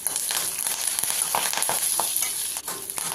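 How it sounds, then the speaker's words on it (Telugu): Capsicum and curry leaves fry in a hot pan with a bright, continuous sizzle, broken by occasional scraping and stirring strokes, loud and close with no voices. "రెండు రెబ్బల కరివేపాకు కూడా వేసుకుని మరొకసారి కలుపుకుంటూ వేయించుకోవాలి."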